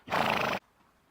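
A single loud horse whinny, close and strong, lasting about half a second before quiet.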